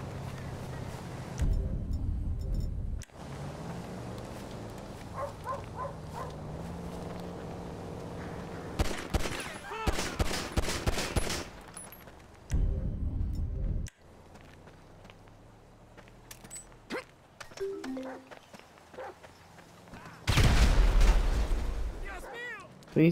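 Gunfire crackles in Grand Theft Auto V during a street scene, several sharp loud bursts of shots separated by quieter stretches with footsteps, while people talk between and over the shooting.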